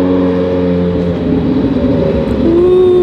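A McLaren supercar's engine drones steadily nearby, a loud continuous hum that rises slightly in pitch toward the end.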